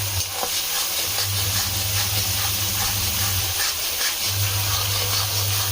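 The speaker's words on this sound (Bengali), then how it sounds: "কড়াইয়ে আমি সর্ষের তেল দিয়ে একটা বড় দেখে পেঁয়াজ, একটা টমেটো, অনেকগুলো একটু বেশি করে রসুন দিয়ে ভালো করে এটা ভেজে নিচ্ছি" Onion, tomato and plenty of garlic frying in mustard oil in a wok, giving a steady close sizzle with scattered stirring scrapes and a continuous low hum underneath, no voices.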